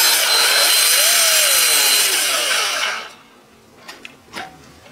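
A power drill whines loudly and steadily for about three seconds as it bores holes in leather straps for a purse, then shuts off, followed by a few faint handling knocks.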